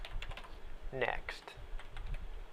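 A computer keyboard clicks under a steady run of quick keystrokes while someone speaks briefly in a quiet indoor room.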